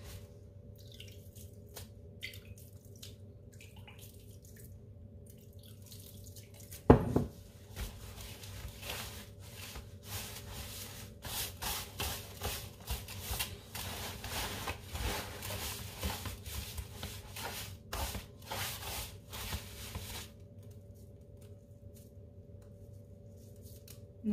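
Makroud dough worked by hand, with soft squishing and rubbing that grows busier and more continuous in the middle stretch before easing off. A sharp knock stands out early, over a faint steady hum.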